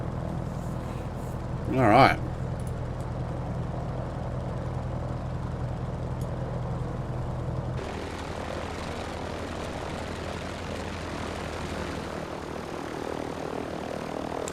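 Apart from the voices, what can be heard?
F4F-4 Wildcat engine running after start, flight sim game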